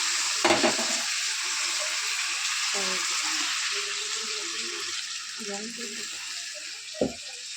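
Fried cauliflower sizzles loudly in a pan while being stirred for a chital fish and potato curry, a dense continuous hiss with a few sharp spoon knocks near the start and end.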